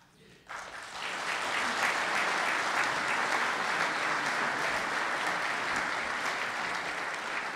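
Sustained applause from an audience at a State of the City address, breaking out suddenly after a quiet moment and holding steady and dense throughout.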